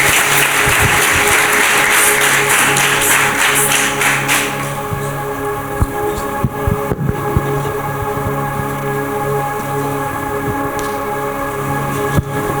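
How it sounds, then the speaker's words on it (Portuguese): A church congregation claps loudly during a service, a dense burst of applause for about four seconds that thins into scattered claps and taps over a steady low hum. "Aplauda Jesus bem forte mais uma vez"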